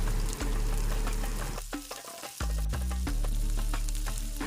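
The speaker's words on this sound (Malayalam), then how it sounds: "റൈസൊക്കെ ഇട്ടിട്ട് നന്നായിട്ടൊന്ന് ഇളക്കി യോജിപ്പിച്ച് കൊടുക്കുക" Rice being stirred in a hot pan, sizzling and frying loudly and continuously up close, with scraping stir strokes and a brief dip in the middle, no voices.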